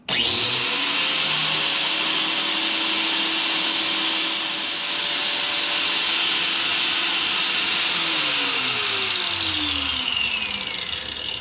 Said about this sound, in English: You just want to grind enough off of the edges that that weld lets go, and then it lets the little metal cap pop off